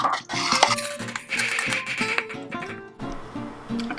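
A spoon presses a keto peanut butter chocolate cheesecake crust into a pan, giving close, busy scraping and clinking against the pan with soft knocks throughout and a brief lull near the end.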